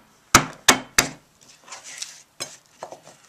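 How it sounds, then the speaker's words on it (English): A kitchen knife chops celery for Tibetan beef dumpling soup: three sharp, close thuds on the board come in an even rhythm, then quieter scraping and a few softer knocks follow, with no voices. "Now I'm chopping celery."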